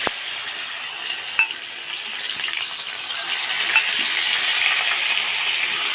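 A paste of ginger, green chili and cumin sizzles in hot oil tempered with whole cumin for a papaya dish. The frying is loud and steady and swells gradually, with a couple of sharp spatters and stirring clinks.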